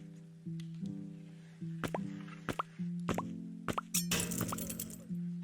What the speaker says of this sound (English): There's also this popping sound effect when you move up and score.